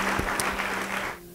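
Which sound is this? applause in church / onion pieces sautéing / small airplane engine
applause in church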